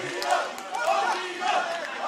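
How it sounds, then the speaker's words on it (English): Crowd at an antweight robot combat esports tournament cheering and chanting after a knockout win, a loud, rolling mass of voices swelling in waves with no single speaker standing out. "And the crowd is going wild. We hear the Odium chants coming out"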